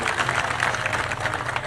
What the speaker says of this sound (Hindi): हम उनका बहुत बहुत स्वागत करते हैं सभी साथी तालियों से